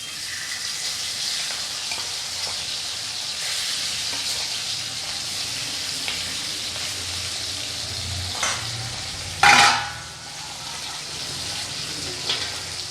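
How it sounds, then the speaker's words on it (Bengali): Small charapona fish sizzle and fry in hot oil in a home kitchen, a steady crackling hiss that runs throughout, with a few louder bursts and clatters near the middle and end. "সব মাছগুলো এইভাবে আমি ভেজে নেবো"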